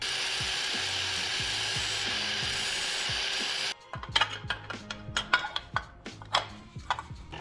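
A homemade chain cover on a Motovox mini bike with a dirt bike engine rubs against the sprocket. A steady scraping hum runs for several seconds, then breaks into irregular, uneven rubbing and scuffing bursts close by.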